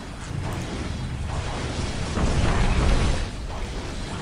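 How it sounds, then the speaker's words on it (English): Big in-game explosions in the real-time strategy game Dawn of War, a continuous rumbling barrage of booms and crackling bursts swelling louder midway, with no talking. "Damn, that's some big explosions."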